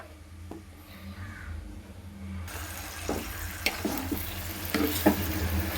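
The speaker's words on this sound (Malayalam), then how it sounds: "അതിനകത്തേക്ക് ഒരിത്തിരി വെളിച്ചെണ്ണ ഒഴിച്ചിട്ട് ഒന്ന് വഴറ്റാം" Papaya being sautéed in coconut oil in a pan starts hissing steadily a couple of seconds in, with scattered scraping stirs and light clinks over a soft continuous sizzle.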